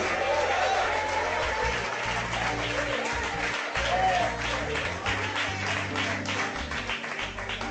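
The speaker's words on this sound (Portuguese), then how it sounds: "Aplauda e glorifique esse Deus maravilhoso." Clapping rises from a church congregation at worship, blending with raised voices and low held musical tones, then gradually easing toward the end.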